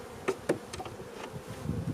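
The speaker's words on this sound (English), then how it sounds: "Starting to get a little buzz in here, so let's see if we can calm girls down a little bit." Honey bees buzz around an open hive during an inspection, a steady close hum with a few sharp clicks and knocks from handling the hive.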